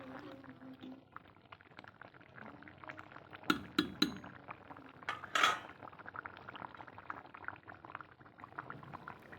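Taro and red potato curry with koi fish bubbles gently in a pot, a quiet simmer broken by a few sharp clinks of a utensil against the vessel in the middle.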